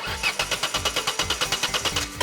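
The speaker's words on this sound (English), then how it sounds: "Time to start the engine." A toy-like front loader engine starting at an indoor construction-themed playground, a fast rhythmic chugging of steady repeated pulses about ten per second, close and fairly loud, with no talk.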